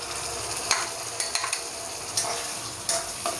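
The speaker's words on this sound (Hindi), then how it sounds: "इसे भी हम अच्छे तरीके से मिक्स करेंगे और थोड़ा इसे फ्राई करेंगे।" Onion with ginger-garlic paste stirs and fries in a pan for a Punjabi-style egg curry: a steady, close sizzle broken by several sharp spatula scrapes at uneven intervals.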